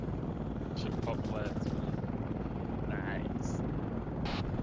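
An Apache helicopter in flight, its loud steady rotor and engine roar filling the scene up close, with a voice and brief radio-like chatter over it.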